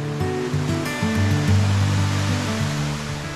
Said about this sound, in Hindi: इतना सुंदर आवाज़ आ रहा है फॉल्स का